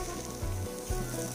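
Mutton sizzles with spices in a pan, a soft steady frying crackle that runs through the short moment with no voices.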